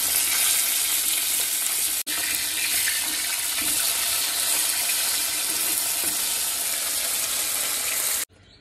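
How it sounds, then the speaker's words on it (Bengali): Fish frying in a pan on a home kitchen stove, a loud, steady, dense sizzle that runs without a break for about eight seconds, with one brief dropout early on, then stops abruptly. "আর এদিকে বসিয়ে দিয়েছি মাছ ভাজা।"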